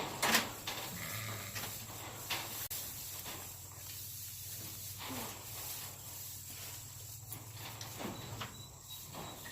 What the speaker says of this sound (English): I just want to give this goat some hay.